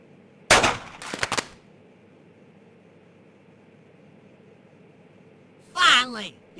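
Video game gunfire during a shooting test at a pineapple target: a sharp loud shot followed by a quick second burst, a quiet gap with low hum, then another loud burst with a sweeping tonal edge.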